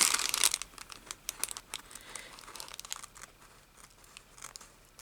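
Paper being handled and cut for journal pages, crinkling and crisp snipping sounds, loud at first and then quieter and intermittent, close by.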